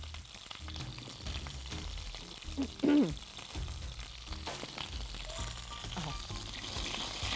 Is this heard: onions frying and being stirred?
yes